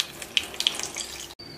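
Water is drained off soaked moong lentils in a home kitchen, a soft continuous trickle and splash with a few sharper drips, close and fairly quiet, ending in a brief silence.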